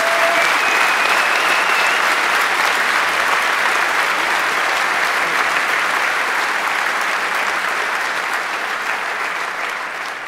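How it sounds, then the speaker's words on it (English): Sustained audience applause at a 27C3 hacker conference keynote in a large hall, dense clapping from a big crowd that stays loud for about ten seconds before tapering slightly at the end. "Give yourselves a round of applause and give a round of applause for these guys."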